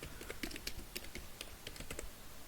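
Rapid typing on a computer keyboard while entering code, a close stream of light irregular key clicks with no speech over it.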